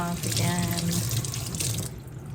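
Tap water runs steadily over dyed red and purple fabric being rinsed in a sink, a loud splashing hiss that cuts off near the end, leaving quiet room tone.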